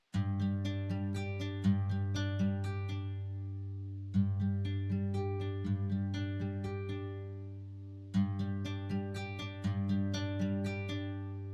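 UJAM Silk 2 virtual instrument with its air knob boosting the upper mids and highs, playing a sustained low drone under a bright plucked melody in three repeating phrases, the notes rich in airy upper harmonics.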